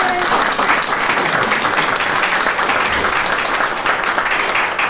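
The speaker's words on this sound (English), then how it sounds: "I just want to applaud for them." Loud, steady applause from a crowd at a school board open session, continuous dense clapping filling the whole stretch.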